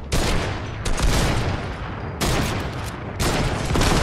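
Sustained bursts of rapid gunfire from a Fortnite squads match, loud and continuous across several overlapping volleys with brief dips between them, no talking.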